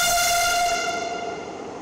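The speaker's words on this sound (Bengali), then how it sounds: "উত্তরা থেকে আগারগাঁও ট্রেন চলেছে" A Dhaka metro rail train on a trial run between Uttara and Agargaon sounds a loud, sustained horn that holds steady and then fades as the train moves on.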